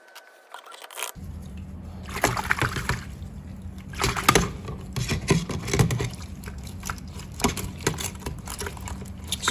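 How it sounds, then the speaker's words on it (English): Wheel bearings from a 5000 lb dump trailer axle sloshing and clicking in solvent, an irregular wet rattling that comes and goes at close range. "just trying to roll these bearings around in this solvent"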